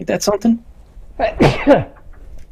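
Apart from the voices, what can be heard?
sneeze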